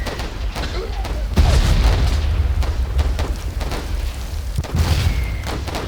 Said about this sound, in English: here comes the mortar